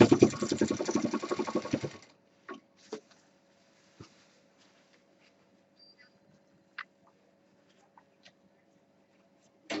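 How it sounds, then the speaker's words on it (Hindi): A sewing machine runs in a fast continuous burst stitching stretchy fabric for a medium tour bag, then stops, leaving scattered faint clicks and handling taps over a quiet hum. "इसलिए बहुत संभाल के सिलना है।"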